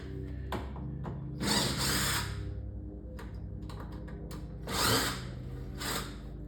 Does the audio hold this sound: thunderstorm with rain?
no